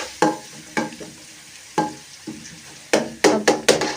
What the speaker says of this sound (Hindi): इसमें हम लहसुन का पेस्ट डाल देंगे। ये देखें लहसुन का पेस्ट मैंने इसमें डाल दिया है।